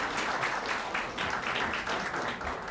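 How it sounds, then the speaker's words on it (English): Audience applause at a Glendale city council meeting, a faint steady patter of many hands clapping with no voices over it. "Let's give them another round of applause."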